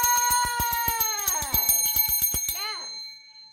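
A hand bell in a classroom is rung rapidly to cheer students: about two and a half seconds of fast, bright, repeated strikes, close and loud, then a short ringing decay.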